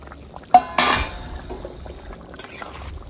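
Pieces of rui fish going into a pot of simmering potato curry: a sharp clank of metal against the pot, then a brief wet splash and clatter, with soft stirring and quiet afterward.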